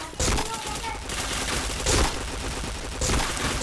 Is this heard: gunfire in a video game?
yes